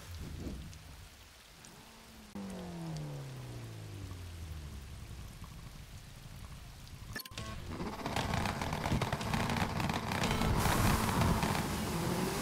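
Rain in the racing video game Gravel, a steady broadband wash of downpour that swells louder partway through, with a brief sharp crack and game engine tones underneath, no talking.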